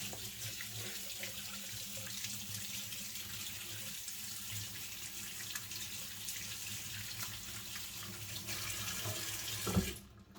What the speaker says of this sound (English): then wash everything away with big amount of water